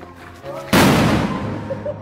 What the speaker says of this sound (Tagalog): Isang bombshell na salute